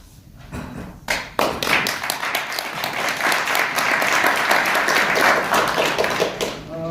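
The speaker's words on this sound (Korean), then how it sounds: "이번 공모전에 참여하신 모든 응모자들에게 뜨거운 박수를 보내드립니다." Audience applause for contest entrants at an award ceremony, starting with a few scattered claps that quickly swell into loud, dense, sustained clapping from a sizeable crowd, easing slightly near the end.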